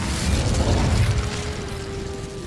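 The Incendio fire spell cast in Hogwarts Legacy, a close whooshing burst with a popping, crackling flare at the start that fades into a lower mechanical rumble and thin tone.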